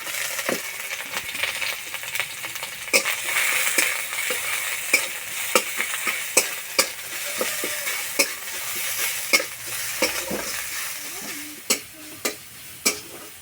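Grated garlic, grated ginger and chopped onion fry in oil in a pan. The sizzle is continuous, and a spatula or spoon clacks repeatedly against the pan in irregular sharp knocks. Nobody speaks.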